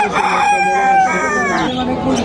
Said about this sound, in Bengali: দেশি অরিজিনাল দেশি শিকারি মোরগ খুবই সুন্দর দেখেন দেখার মতো একটা মোরগ